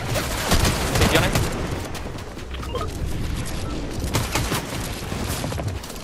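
Gunshots in the video game Fortnite, rapid close-range bursts of gunfire with sharp repeated cracks throughout, mixed with players talking.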